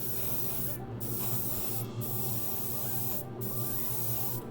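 Airbrush or spray can misting paint onto a Gundam RG Sazabi model kit for an overcoat, a steady near hiss running throughout with a few brief breaks, no talk.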